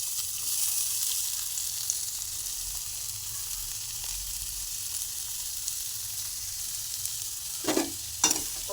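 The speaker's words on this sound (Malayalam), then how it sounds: "ഒരു വല്ലുള്ളി എടുത്തിട്ട് നമ്മൾ ജസ്റ്റ് എണ്ണയിലൊന്ന് വഴറ്റിയെടുക്കുകയാണ്" One large chopped onion sautés in oil in a pan, giving a steady, soft sizzle throughout, with a couple of brief stirring scrapes near the end.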